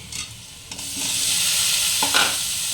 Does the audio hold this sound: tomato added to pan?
yes